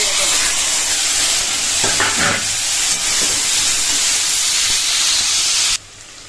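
Loud continuous sizzling and hissing of greens frying in a hot pan with dried chillies and garlic, with scraping stirs, ending abruptly as the heat drops off.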